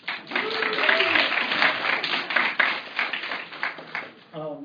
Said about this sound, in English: That invited a quick round of applause.